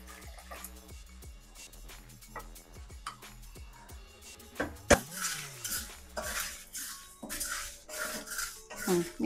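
Metal spoon scraping and clanking against an iron kadai while mutton ghee roast is stirred, with irregular knocks and scrapes up close, busier and louder toward the end.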